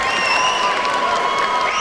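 The crowd at a professional boxing show in Medway, Kent applauds after a tight fight. The clapping and cheering are dense and sustained, with a bright, steady roar throughout the short stretch.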